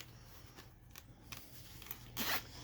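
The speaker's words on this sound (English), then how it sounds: "Zipper." Zipper being drawn on a golf rangefinder carrying case, a quiet rasping pull with a louder closing burst near the end.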